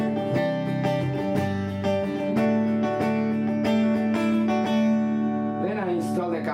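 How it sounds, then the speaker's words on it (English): A Fender Telecaster electric guitar runs straight into an amp through a cable, with its volume knob rolled back a little. Clean plucked notes and chords ring with sustained harmonics, played steadily and up close throughout. "Here I got my Telecaster straight to the amp with nothing in between"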